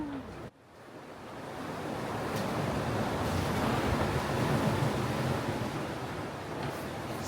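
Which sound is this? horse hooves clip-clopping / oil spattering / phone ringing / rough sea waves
rough sea waves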